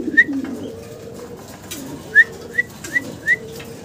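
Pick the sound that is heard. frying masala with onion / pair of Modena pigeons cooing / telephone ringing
pair of Modena pigeons cooing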